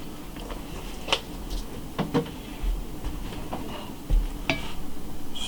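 Rotini pasta salad being stirred with Italian dressing in a bowl, soft wet scraping and a few sharp clinks of a utensil against the side, fairly close and with no talk.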